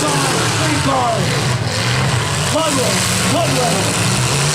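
Engines rumble loudly from cars at a limited weld drag race in 2023, a steady engine drone with rising and falling revs, under a public-address announcer's voice.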